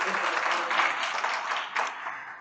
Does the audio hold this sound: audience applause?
yes